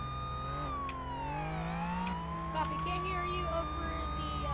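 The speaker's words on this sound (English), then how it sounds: "I have my siren turned down to like half volume." A video game police siren, turned down to half volume, wails steadily, sweeping up and down in pitch over a rumbling engine, loud and close throughout.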